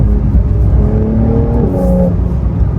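Porsche 911 engine revving loudly and close up, a deep, throaty drone that climbs and falls in pitch over a few seconds with no talk.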